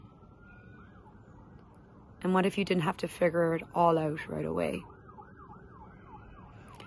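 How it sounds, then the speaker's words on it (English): An ambulance siren wails at a distance on a rural road in Ireland, its rising and falling tone running steadily in the background while someone speaks over the middle of it. "And all of a sudden an ambulance in the background."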